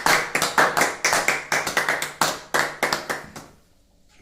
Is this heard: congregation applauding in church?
yes